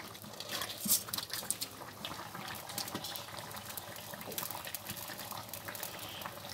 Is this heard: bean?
yes